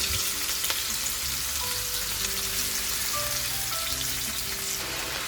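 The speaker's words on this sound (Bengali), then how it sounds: "চিংড়িটাকে আগে ভেজে নিচ্ছি।" Prawns fry in hot oil in a kadai for a Bengali prawn and Malabar spinach dish, a loud, dense, continuous sizzle close up with a little stirring and no talk.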